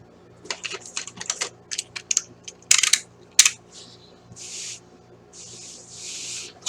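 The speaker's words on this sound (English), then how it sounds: "So, for the moment, we're going to cut this out." Cardboard being cut out for a frame, close and fairly loud: a flurry of short crisp ticks and scratches, then a few longer rasping strokes and soft hisses, with no talking.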